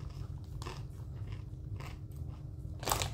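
Doritos Hot Mustard tortilla chips crunch up close in a few sharp, separate bites over a quiet low hum, with the loudest crunch at the end.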